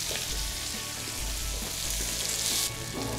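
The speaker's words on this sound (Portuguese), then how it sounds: "Bacon dourado, vou acrescentar a cebola. Vamos deixar essa cebola caramelizar um pouco." Onion frying with golden bacon in a pan for ossobuco, a steady close sizzle with faint stirring scrapes, continuous and fairly loud, no voices.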